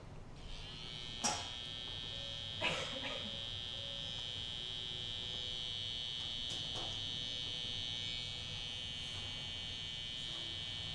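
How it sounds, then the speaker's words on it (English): An electric hair trimmer hums with a steady high-pitched buzz throughout, broken by a couple of brief louder knocks early on. "You take the trimmer."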